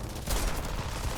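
Enemy gunners in a video game let off a dense burst of rapid gunfire, a loud, continuous rattle that fills the short moment.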